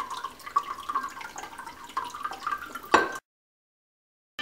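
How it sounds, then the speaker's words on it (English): Half a liter of water pouring into a cooking pot that already holds white vinegar, for cooking courgette, with a steady splashing trickle for about three seconds that ends abruptly, followed by silence. "We add 1/2 liter of water."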